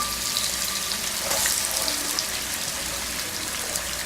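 Tomato drops into a hot frying pan with ginger and garlic while cooking sauteed eggplant with bell peppers, giving a steady close sizzle and crackle with a brief louder hiss as it lands.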